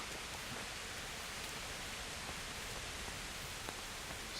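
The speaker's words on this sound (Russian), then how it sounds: "Дождик идет." Steady rain falls across a medieval outdoor scene in the video game Kingdom Come: Deliverance, a dense even hiss with faint scattered patters, constant and moderately quiet throughout with no voices.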